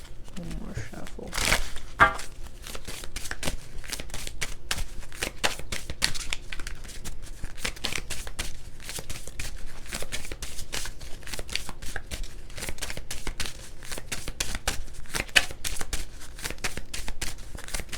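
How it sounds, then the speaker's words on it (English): A tarot card deck is shuffled by hand in a rapid, continuous riffling patter of card flicks that runs close and steady throughout, with a voice talking now and then. "One more shuffle."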